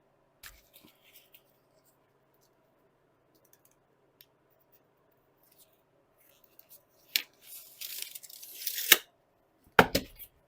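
Budget sound deadener sheet for a VW Beetle being cut by hand, a few faint early clicks then a burst of scraping, tearing cuts near the end, close and fairly quiet with no talk.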